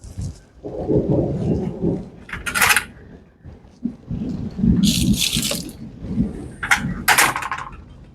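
Excess water poured off an overwatered seedling tray, several short bursts of splashing and trickling separated by gaps, close and fairly loud over a low background rumble.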